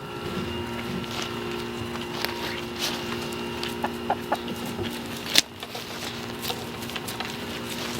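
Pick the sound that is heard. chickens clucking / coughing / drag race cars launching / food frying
chickens clucking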